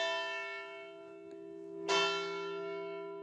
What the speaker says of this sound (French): les cloches semblent toujours rythmer la journée des Templiers au sein de la commanderie